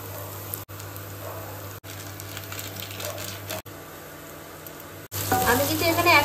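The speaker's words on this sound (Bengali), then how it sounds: "দিয়ে এবার ভালো করে মশলাটাকে আমি কষাবো" Ginger-garlic spice paste and tomato sauté in an AGARO non-stick kadai, a steady close sizzle broken by brief cuts, swelling into louder stirring and spitting at the end.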